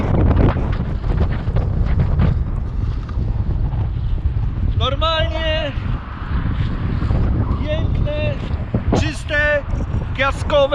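Wind buffets the microphone in strong, rumbling gusts near dunes around San Diego, with people talking intermittently over it.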